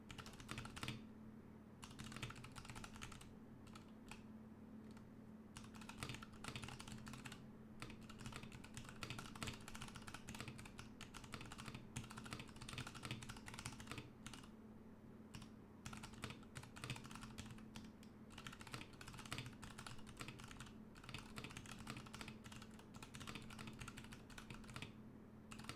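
Continuous typing on a KBD75v2 mechanical keyboard fitted with White Revos switches, close and steady clacking keystrokes with a thumping spacebar, alone for the whole stretch with no talk.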